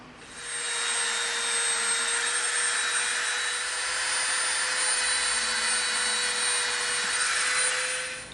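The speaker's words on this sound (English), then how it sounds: "now we're going to come in with our Dremel" A Dremel rotary tool cuts a groove into EVA foam, a steady high whirring whine starting after a short moment and holding evenly for about seven seconds before easing off.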